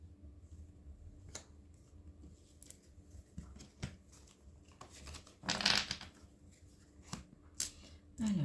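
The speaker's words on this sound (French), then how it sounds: "Alors, je positionne les cartes." Tarot cards being shuffled and laid out on a surface, with soft, close card snaps, slides and flicks in irregular bursts, and a louder riffle near the middle and another at the end.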